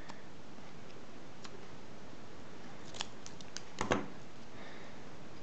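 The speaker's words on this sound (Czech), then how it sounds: "takže si vezmu nůžky a odstříhnu ho" Scissors snip off a stray piece of paper while a paper star is being made, giving a few quick, close, crisp cuts clustered together against a quiet hiss.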